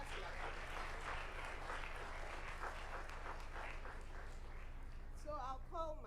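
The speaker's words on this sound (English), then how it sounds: "I think you all deserve a round of applause." Faint round of applause from a small audience for moot court participants at a grand finale, steady soft clapping throughout, with a voice briefly emerging near the end.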